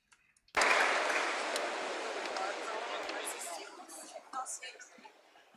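An audience at a business forum bursts into sudden applause that swells quickly, then gradually thins and fades to scattered claps.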